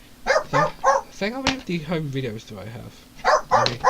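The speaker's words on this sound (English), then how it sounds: "my dog was barking and she wanted to leave the room" A pet dog barks in a room while someone talks; a few short yaps sit among and between his words at close range.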